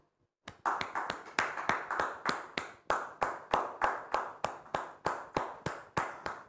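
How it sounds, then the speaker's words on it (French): Rhythmic hand clapping, fairly even and steady, a small group clapping together at a moderate distance, with no talking. "Recevons-la avec beaucoup de joie, sous vos applaudissements, s'il vous plaît."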